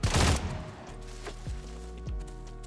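Gunfire in the video game Stalcraft as a player shoots at pigs: a loud opening burst of rapid shots followed by a few sharper single reports over a steady low game hum.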